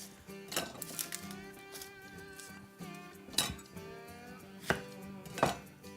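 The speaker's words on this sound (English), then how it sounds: "We'll start off with some red onion. So we're just gonna slice our onions here." A knife slicing red onion on a cutting board gives scattered, sharp, close taps that grow louder toward the end, over soft steady background music, with no one speaking.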